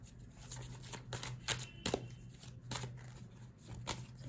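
Tarot cards shuffled and drawn from a deck, a close run of crisp riffling flicks and soft snaps in quick irregular bursts, fairly quiet, with no voices.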